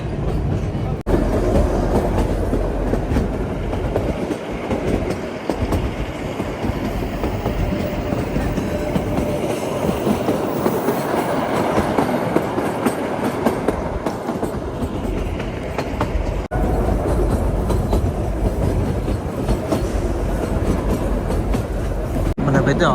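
Shivalik Deluxe Express rolling at night on the Shimla to Kalka line, heard from onboard as a steady, loud rumble of wheels and carriage noise throughout, with a voice talking over it.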